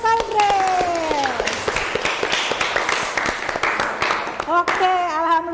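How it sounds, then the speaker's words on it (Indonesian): A classroom of students clapping for a classmate, a dense burst of many hands applauding steadily for several seconds, with voices speaking over the clapping at the start and end. "Tepuk tangan untuk Audrey"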